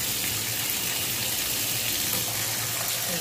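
Water runs from a Kohler shower faucet, now delivering cold water after a repair, as a steady, even hiss of flowing water with no pauses or talk.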